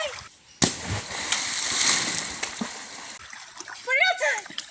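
A jackfruit drops into a stream with one sharp, close splash, followed by sloshing water and brief scattered voices nearby.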